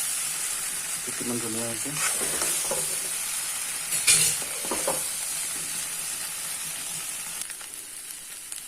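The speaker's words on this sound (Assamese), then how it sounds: "আৰু এনেকৈ ফ্ৰাই কৰিম অকল অলপ টাইম" Local chicken curry fries in a pan with a steady soft sizzle and occasional stirring scrapes, while a voice speaks briefly over it.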